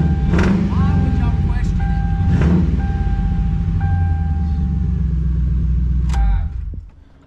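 A Ford Crown Victoria engine cranks and catches, then runs at a loud, steady idle close by before cutting off near the end, with a person speaking over it.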